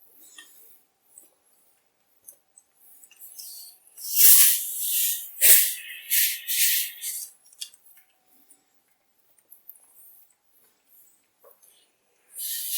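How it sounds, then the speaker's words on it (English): A steam iron releases short hissing bursts of steam over cross-stitch fabric, two louder blasts mid-way amid fainter hisses and quiet handling noises, close by with no talking. "I will use a bit of steaming"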